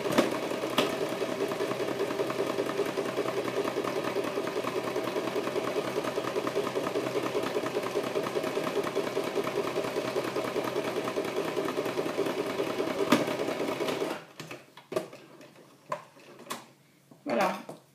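A sewing machine stitches a long French seam about 1 cm from the fabric edge with a steady, fast mechanical whir, then stops, leaving scattered soft handling clicks and rustles.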